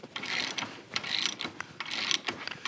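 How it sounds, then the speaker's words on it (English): Large wrench being turned to press a suspension bushing out, giving repeated ratcheting clicks in quick rhythmic bursts, close and fairly loud with no talk. "Now we grab my big wrench, make sure it's going the correct way."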